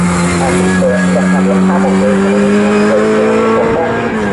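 Mini Miglia race cars at Snetterton circuit, engines droning loud and steady as the pack heads toward a left-hand bend, with a commentator's voice running over them.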